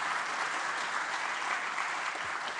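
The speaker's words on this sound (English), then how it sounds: "A round of applause for them, please." An audience at a national junior schools quiz competition in Ghana claps in steady, dense applause that fills the room throughout.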